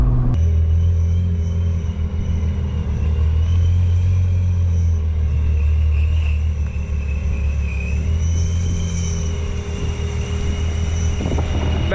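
A VR6-engined car cruises with a steady, low engine rumble and road drone. The sound is continuous for about twelve seconds, with faint wind noise and no talking.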